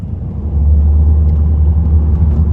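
A Mercedes A200 W169 with a CVT gearbox accelerates, giving a loud, steady low engine drone and road rumble from inside the cabin, with no voices.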